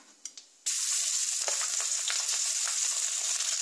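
Ginger paste hits hot oil for Bengali shukto and bursts into a loud, steady sizzle after a couple of faint clicks, frying continuously up close with no voices.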